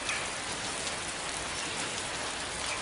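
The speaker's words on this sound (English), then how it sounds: "the trees with the rain on the leaves rustling" Steady rain falls on leaves and trees, a soft, even hiss of countless drops with no pauses or voices.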